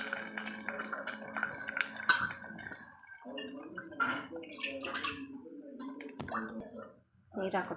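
Water is poured into a pot of soppina saaru (greens rasam) over roasted garlic, a close gurgling and splashing pour with drips and short pauses, under someone speaking.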